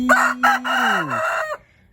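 A rooster crows loudly and close by, a single drawn-out call that falls in pitch, with chicken clucking sounds mixed in, on a Thai chicken farm.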